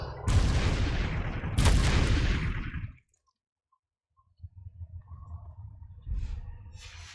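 Two Confringo blast spells in Hogwarts Legacy hit in quick succession as loud, booming explosions with crackling tails, then fall to near silence before softer rumbling game ambience and a faint later burst return.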